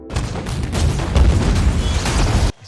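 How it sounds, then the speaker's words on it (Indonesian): A huge, deep explosion rumbles loudly and continuously right after fireworks at a Venice carnival film scene, with heavy low booming that cuts off abruptly at the end. "Terjadi ledakan dahsyat tepat setelah dinyalakannya kembang api."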